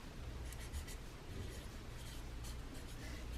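A pen writes by hand on paper, jotting down a time conversion as a soft, close scratching that runs on without a break, with faint strokes and taps over a low background hum.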